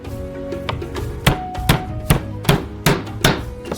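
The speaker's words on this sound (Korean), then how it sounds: "마늘 껍질을 벗기고 으깨고" Garlic is crushed and chopped on a board. A knife strikes in a loose, fairly regular series of sharp, close thuds, with no speech.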